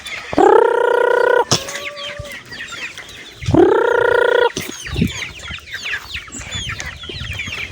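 Chickens cluck nearby while a rooster lets out two long, loud crows, with busy clucking and chatter from the flock between them.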